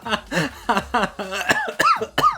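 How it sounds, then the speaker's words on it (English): A short series of harsh, voiced coughing bursts, about seven in quick succession, close and loud, with a strained, almost laughing quality toward the end. "That's a genuine cough."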